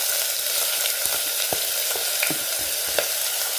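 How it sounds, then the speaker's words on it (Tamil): Onions frying in oil in a pan with cardamom, cloves and green chilli for a Tamil prawn and bottle gourd curry, a steady close sizzle with occasional soft stirring clicks and no talk. "எடுத்து வச்சிருந்த வெங்காயத்தையும் போட்டுக்கலாம்."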